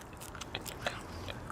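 A person bites and crunches a live bug in a casual party setting in Louisiana, giving a few sharp, close crackling bites spread over a second and a half with no talk.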